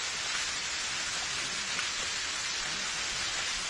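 Steady rain falling, a dense, even hiss of drops that stays constant and fairly close, with no voices.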